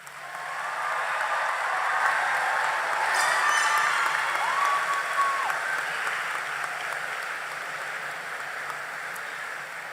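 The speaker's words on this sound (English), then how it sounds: "Will you give them one more round of applause?" A graduation crowd applauding in a large venue, a long steady wash of many hands clapping that swells slightly in the middle, with a few faint cheers and whistles over it.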